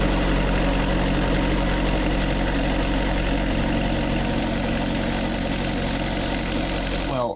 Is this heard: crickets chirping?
no